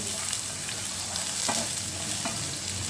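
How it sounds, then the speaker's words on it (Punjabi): Two chopped onions fry in a pan for a mango sabzi, a continuous close sizzle with a few stirring scrapes and knocks. "ਹੁਣ ਆਪਾਂ ਇਹਦੇ ਪਾਵਾਂਗੇ ਦੋ ਪਿਆਜ਼ ਕੱਟੇ ਹੋਏ"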